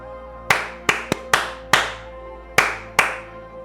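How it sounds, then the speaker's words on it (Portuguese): Seven sharp hand claps ring out close to the microphone in an uneven rhythm, each crisp snap followed by a short room echo, against a quiet background with no talk. "Foram 7 palmas."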